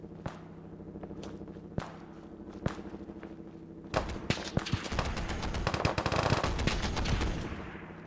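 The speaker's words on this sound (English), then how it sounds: "Who's shooting?" Gunfire in Fallout 4 at Fort Hagen: a few sparse single shots at first, then a dense, loud burst of rapid automatic fire and impacts in the second half.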